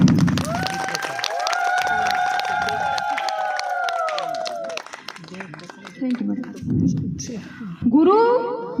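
Audience applause at a school annual function, clapping rising near the end after a stretch of amplified singing or speech over a loudspeaker.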